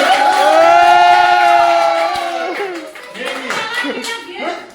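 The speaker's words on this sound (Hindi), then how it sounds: "तो जोड़ के ताली बजाइए" Loud clapping and cheering from a group at a surprise birthday party, with a sustained high whoop or shout over the applause, then voices continuing amid the clapping.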